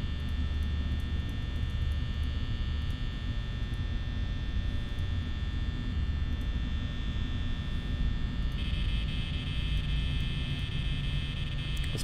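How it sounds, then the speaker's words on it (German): Steady droning ventilator fan hum in the horror video game Five Nights at Freddy's, a constant close whir with an electrical buzz that runs unbroken throughout, with no talking. "kann ich nicht den Ventilator ausschalten?"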